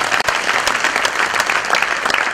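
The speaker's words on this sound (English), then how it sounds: "One more time, please, can we clap for the royal father?" Brief burst of loud, dense audience clapping for a royal father at a public gathering, continuous and close with no voices over it.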